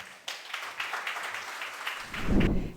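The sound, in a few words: applause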